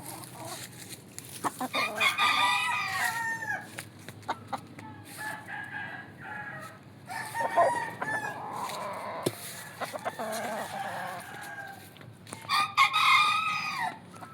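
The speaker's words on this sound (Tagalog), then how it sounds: "Ito mga manok namin" Roosters crow in several loud bursts, each followed by scattered clucking from hens nearby, with a faint mix of background farm noise between calls.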